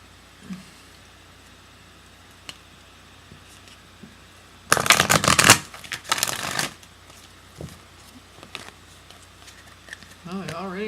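Tarot cards are shuffled in a loud, dense burst of riffling and flicking lasting about two seconds, followed by a few softer card slides and taps, with a quiet voice speaking nearby.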